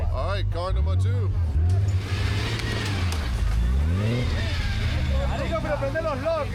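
An off-road car's engine revs repeatedly up and down during a rainforest off-road trip in Colombia, loud and close, the pitch sweeping through several throttle bursts while people talk over it.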